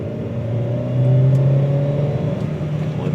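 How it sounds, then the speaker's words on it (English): Car engine held at full throttle from about 2000 RPM during a rear oxygen sensor and catalytic converter check, a loud steady mid-pitched roar that rises briefly and sustains close by without talk. "put full throttle for about 2 seconds and then let go of pedal"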